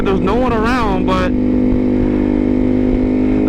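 A vehicle putters along slowly on an empty freeway at low speed, its steady low engine drone running loud and continuous, with a brief rising engine or voice-like sweep near the start.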